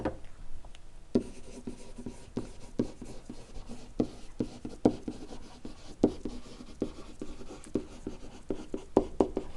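Pen or marker writing out a tangent-line equation for an inverse trig derivative problem, a steady run of short scratchy strokes with frequent taps and pauses, close and fairly quiet, with no talking.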